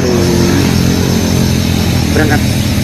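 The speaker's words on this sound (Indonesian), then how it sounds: "Nah, dengar suara motor guys." Motorcycles passing along a roadside on a misty morning, their engines droning steadily and fairly close, with a brief higher engine note rising near the end.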